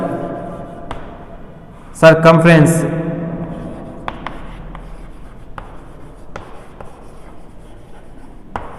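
A pen scratches out a maths solution on paper in short, distinct strokes and taps, and a voice speaks between and over the writing.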